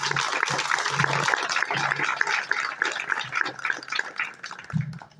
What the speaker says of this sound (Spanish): Un aplauso por esa promesa.